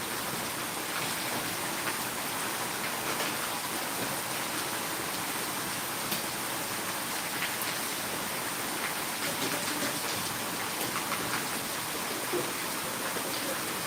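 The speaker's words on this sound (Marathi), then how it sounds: "अचानक हा पाऊस झालेला आहे" Sudden steady rain in Karad hisses evenly over everything, a dense wash of falling water with no breaks and no voices.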